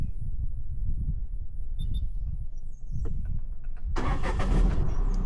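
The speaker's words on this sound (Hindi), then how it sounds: "पहले सेल्फ में स्टार्ट हो गई है" Tata diesel car engine cranks with its self-starter after standing unused for a long time in the hills, then catches and runs loudly and steadily up close.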